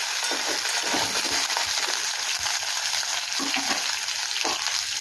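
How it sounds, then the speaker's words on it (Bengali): Potatoes and okra fry in a covered pan with a steady, close sizzle, and faint soft knocks surface now and then beneath the hiss. "আবার কিছুক্ষণ সময় নিয়ে ঢাকা চাপা দিয়ে একটু ভেজে নেব।"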